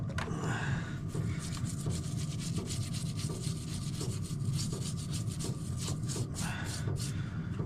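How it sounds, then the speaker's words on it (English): A rag or brush scrubs diesel over the rusty frame of a Yamaha XT660 motorcycle in steady, repetitive rubbing strokes, soft and close, with no talking. "a little bit of diesel. Let's see if we can get some of that crud off there."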